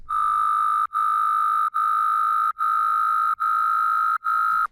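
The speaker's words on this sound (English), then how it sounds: "It's just FM sine wave, and then with the effects on it." A steady synth tone with a bright, buzzy harmonic edge, repeated in six even notes with short gaps between them, loud and alone.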